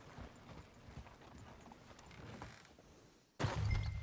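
Horse hooves clip-clopping in Red Dead Redemption 2, a steady soft patter of hoofbeats on the ground that gives way to a louder, closer rumble and creak near the end.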